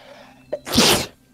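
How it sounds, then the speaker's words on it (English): A single sneeze bursts out during a Dragon Ball Online gaming session, preceded by a short sharp intake, loud and close, with quiet background hum before and after. "Woohoo, sneeze"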